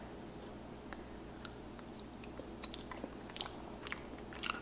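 Someone chewing honeycomb close up, with soft sticky crunches and small bites breaking over a steady low background hum, growing a little more frequent toward the end.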